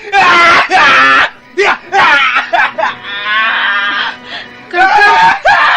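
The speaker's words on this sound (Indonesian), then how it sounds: "Dia berteriak, meraung dan menangis sejadi-jadinya." A woman screams, wails and cries in a dramatized scene, her loud, strained voice rising and breaking in long sustained cries with short gaps between outbursts.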